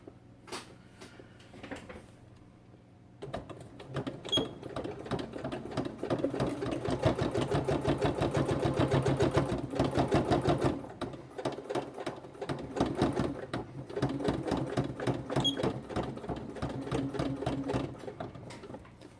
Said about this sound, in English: I'm going to back stitch at the beginning and end.